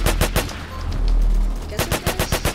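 Rapid bursts of gunfire from a newly equipped gun in the video game Flag Wars, loud and close, with sharp repeated shots at the start and end and a sustained rumbling stretch in between.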